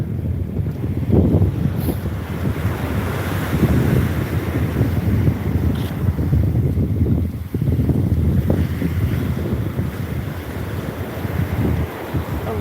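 Ocean waves wash and roll in repeatedly on a beach, with heavy wind buffeting the microphone throughout; no one speaks.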